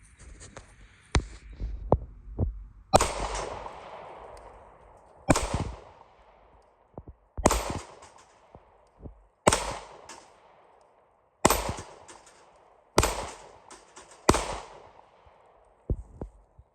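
Ported Glock 43x pistol fired at a range, about eight sharp loud shots spaced a couple of seconds apart, each with a short decaying echo, plus a few fainter distant pops in between.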